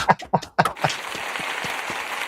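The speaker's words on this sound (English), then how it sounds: "Cheeto, hit me with that applause button." A canned applause effect fired from a soundboard button on a sports podcast brings a brief patter of clapping and cheering right after a few quick vocal sounds, fairly faint.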